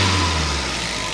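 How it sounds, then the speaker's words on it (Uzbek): A Changan car engine idling with a slight shake, a steady low rumble close by that eases a little in loudness partway through, with no voices. "Motorda sal qaltirash bor mana."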